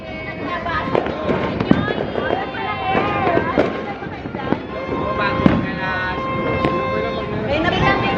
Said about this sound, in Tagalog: Fireworks ngayon.